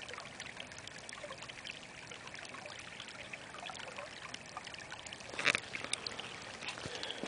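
Pond water overflowing and running down a driveway, a faint continuous trickle and stream with a brief louder splash of flow near the end and no talking.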